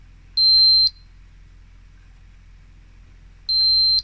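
Jeulin speed-of-sound classroom apparatus emitting two short, clear electronic beeps about three seconds apart, steady pitch, over a quiet low hum.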